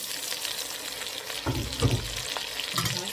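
Meat sizzles and fries in oil inside a kazan cauldron for plov, a steady close crackling hiss with a few stirring scrapes and bumps partway through.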